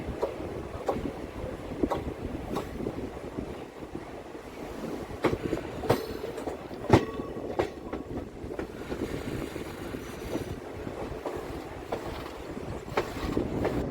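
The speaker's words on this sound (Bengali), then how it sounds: "এখান থেকেই আমাদের ট্রেন ঢুকলো মেন লাইনে" Heard from on board, the 13046 Deoghar–Howrah Mayurakshi Express rumbles onto the main line, a steady roar of wheels and carriages broken by sharp rhythmic rail-joint clicks, with wind buffeting the microphone.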